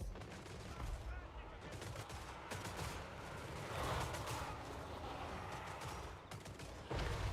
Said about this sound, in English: those skull cannons are just absolutely laying into Carl